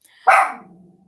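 One sharp dog bark, close and loud, trailing off into a short low tail.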